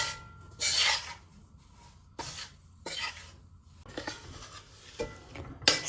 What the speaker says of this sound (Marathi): गॅस बारीक करूनच रवा भाजून घ्यायचा